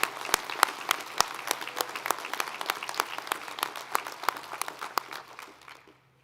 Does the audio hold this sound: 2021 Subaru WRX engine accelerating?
no